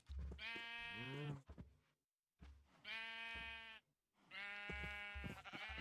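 Sheep in the video game Crazy Town give three long, clear bleats separated by brief silences, close and distinct with no talk.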